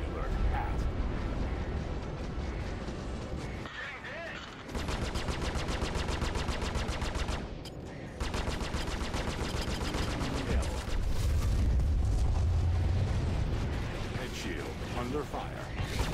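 Ship weapons fire in Star Citizen as an Aegis Saber fights a Vanduul swarm, heard as long loud bursts of rapid automatic fire split by short gaps, with deep rumbling blasts and a voice calling out alerts.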